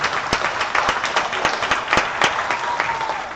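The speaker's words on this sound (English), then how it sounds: "Can we have a final round of applause for our panelists, please?" An audience at a prospective parents night applauds the panelists, a loud, dense wash of many hands clapping with a few sharp individual claps standing out, steady throughout with no voices over it.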